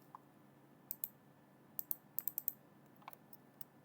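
Light keyboard typing on a computer, a few sparse, quiet key clicks in short bursts over a faint background hum.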